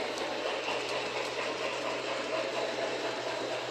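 A Delton model train with a tender and caboose runs along its track on a deck, giving a steady close rumble with a faint rhythmic click and a low hum throughout.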